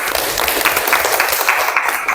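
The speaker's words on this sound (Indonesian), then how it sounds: "Tepuk tangan untuk Yazila." Classroom applause for a student named Yazila, a dense burst of many hands clapping together at close range, steady and loud throughout with no voices standing out.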